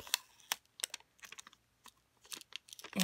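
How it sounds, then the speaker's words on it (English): Thin plastic top peeled off a squishy toy package, heard as a string of close, faint crinkly clicks and crackles in irregular bursts, with no talking. "the top of the plastic should just peel off to let you"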